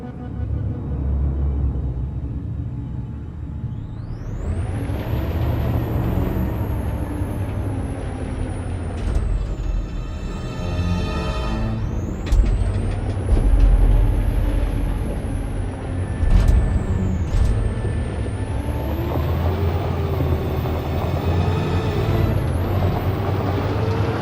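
A heavy truck with air brakes in Detroit: Become Human: a loud, continuous engine rumble with rising mechanical whines and sharp hissing bursts. It sounds close and steady for the whole stretch.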